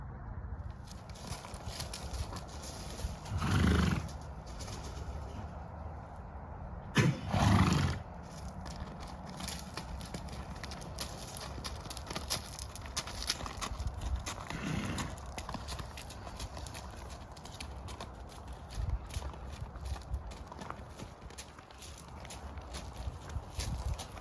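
Horses move about outdoors, with a couple of snorts or whinnies and occasional hoof sounds over a steady hiss of background noise.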